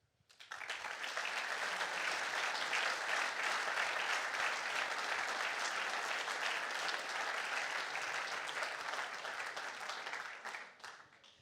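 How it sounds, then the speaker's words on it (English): Sustained applause from an audience at a university racing team's car rollout event, a dense steady wash of clapping lasting about ten seconds before tapering off. "So please, a round of applause for our friends at Anglu."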